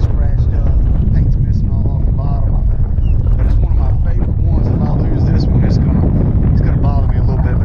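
Steady, loud wind buffeting the microphone on a cold winter day of bass fishing from a boat on a lake, a dense roar that never lets up and partly covers a voice talking throughout.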